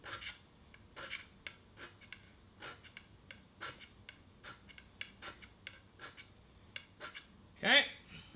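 A hand scraper works the ways of a Monarch 10EE lathe in a series of short, close, rasping strokes at an irregular rhythm, ending with one louder, sharper scrape.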